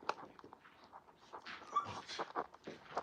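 A dog pants, whimpers and gives small yips, close and fairly quiet, in short uneven bursts over a few seconds.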